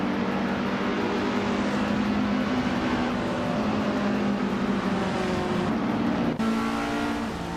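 Engine roar of a 1959 Maserati 3500 GT racing in a video game, a steady close drone with layered motor tones from several cars running throughout.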